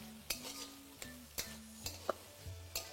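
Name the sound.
stir-frying vegetables for fried rice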